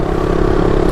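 A 2022 Royal Enfield Interceptor 650 twin-cylinder engine runs in a brief, loud, close burst, a steady throbbing idle-like hum with a slight mechanical clatter and no talk.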